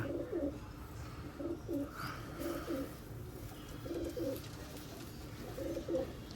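Teddy pigeons from Khawaja Mujeeb's original line coo in repeated soft, low phrases, about five bouts spread evenly, close by over a light hiss of outdoor background.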